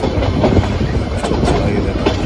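A toy train on the mountain line to Coonoor rumbles along, with rhythmic clattering of wheels on rail joints and a steady close roar from inside the carriage.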